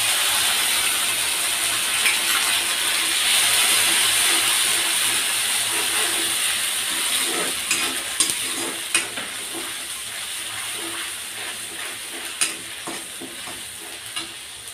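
Ground spice paste fries with golden-browned onions in a pan, giving a continuous sizzle. A spoon stirs through it, adding clicky scraping sounds that grow sharper and more frequent toward the end.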